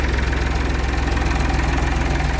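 A tractor engine on a Massey Ferguson 240 drives a Bartech sprayer for hazelnut spraying, a steady, loud, throbbing diesel drone with rhythmic pulsing and a hissing spray over it.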